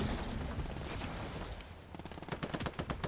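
Heavy blast and battle noise from a World War II eastern-front game, Gates of Hell Ostfront, with an anti-tank grenade detonation in a loud, dense roar that breaks into rapid sharp impacts toward the end.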